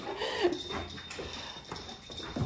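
An active, lively dog plays with its toys indoors, making close scuffling, clattering and pawing noises with faint whimpers, with no talking.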